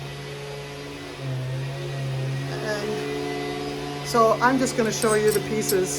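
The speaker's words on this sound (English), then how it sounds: "Sorry for the noise in the background, guys. They're doing some fogging for mosquitoes." A steady mechanical drone from a mosquito fogging machine hums in the background while a person talks over it, the machine noise continuous throughout.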